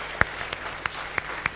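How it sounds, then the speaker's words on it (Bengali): In a church, a handful of sharp, isolated hand claps ring out in a sparse, uneven rhythm rather than full applause, each one clear against a quiet room. "একবার তাদের জন্য জোরে তালি দিন।"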